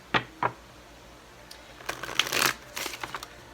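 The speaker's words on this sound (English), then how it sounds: "One more shuffle." Two crisp riffles of a card deck, then a longer rustling shuffle and a few soft taps as the cards are squared, close by.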